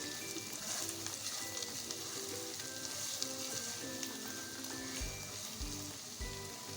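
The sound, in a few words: mixing spices into beef in a pan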